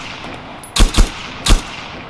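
Gunfire in Arma 3, three sharp loud shots in quick succession, the first two close together and the third after a short gap, with no talk.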